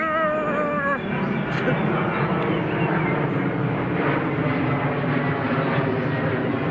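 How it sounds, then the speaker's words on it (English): A plane passes close by near an airport, a loud steady broadband engine roar filling the whole clip with no clear start or fade. "Yes, I am filming next to an airport, that's why there's a plane going past."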